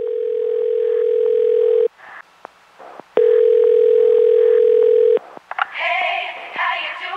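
Telephone line tone after a changed-number recorded message, a loud steady tone that breaks off, returns for a second long stretch, then gives way to brief clicks and faint voice-like sound.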